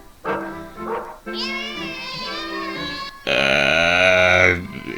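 A stray dog in a film gives harmonic, drawn-out barks and whine-like yelps, with a louder, sustained cry toward the end, heard close and clear over the soundtrack.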